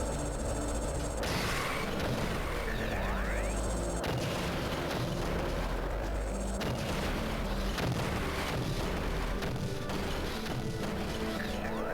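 Missiles exploding in the Metroid Prime Hunters video game: a dense, continuous barrage of deep booms and crashes, loud and sustained throughout with no talking.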